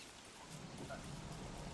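Steady rain falls in the game Don't Starve Together, a soft, continuous hiss with faint patters that stays level throughout and has no talk over it.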